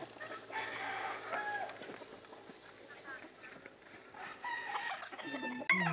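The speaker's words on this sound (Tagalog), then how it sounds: "dumaan muna kami dito sa Manukan." Chickens and roosters at a poultry coop on a farm, with scattered clucks and calls at moderate distance, under people talking in Tagalog throughout.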